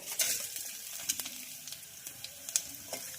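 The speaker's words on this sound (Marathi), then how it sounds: "सगळं साहित्य टाकल्यानंतर याला छानपैकी असं फ्राय करायचं आहे" Cumin and other spices crackle and sizzle in hot oil, with sharp scattered pops over a soft frying hiss.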